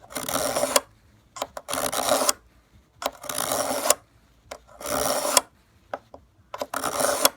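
A hand file sharpens ice auger blades in slow, even strokes, each a close rasping scrape of about a second with brief pauses and a few lighter taps between.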